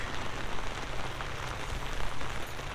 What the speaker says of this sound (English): we can fish when it's pouring rain